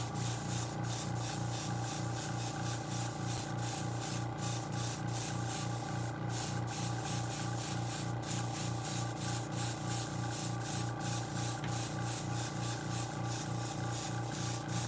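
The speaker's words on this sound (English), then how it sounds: "this Grex airbrush machine is a really good machine" A Grex airbrush sprays a coat of paint onto a model aircraft in a shed, giving a steady close hiss over a continuous rhythmic mechanical pulsing from the compressor that runs throughout.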